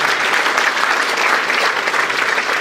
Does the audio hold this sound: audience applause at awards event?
yes